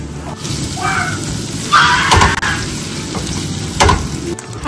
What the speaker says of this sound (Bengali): এখন আমি টমেটো গুলো দিয়ে দেবো এর মধ্যে।